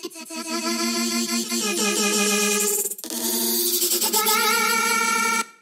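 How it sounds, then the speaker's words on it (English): Grainy electronic sound design built from warped vocal samples, part of a remix: dense, harmonically rich textures that pause briefly midway, then return loud and sustained before cutting off. "the way I achieved this sort of grainy sound"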